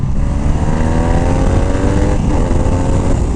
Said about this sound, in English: every single time I change gears, no matter where I am in the RPMs, this thing just like kicks me in the rear